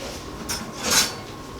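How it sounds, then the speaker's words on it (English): Salt being mixed by hand into shredded cabbage in a bowl for sauerkraut, with soft rustling and two brief scraping swells against the bowl, fairly close, no talking. "I'm going to mix the salt in"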